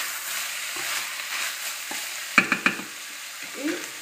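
Paprika frying in a pot for lentil stew while a spoon stirs it, a soft sizzle under a few sharp scraping clacks against the pot, then quieter stirring.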